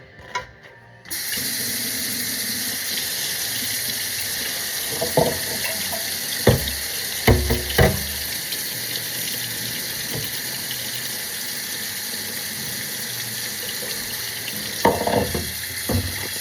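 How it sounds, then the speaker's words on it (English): Hot water pours steadily from a kitchen sink tap into a pan, a constant hissing gush that starts abruptly and runs on, with a few faint clinks of the pan. "Let the hot water go into the pan, fill it up."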